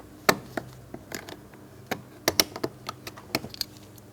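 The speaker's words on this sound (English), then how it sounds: "We're going to remove the plastic cover using a small pocket screwdriver." A small pocket screwdriver prying the plastic cover off a rear door grab handle on a 2004-2008 Pontiac Grand Prix gives sharp, irregular clicks and snaps of plastic tabs, close and distinct in quick scattered bursts.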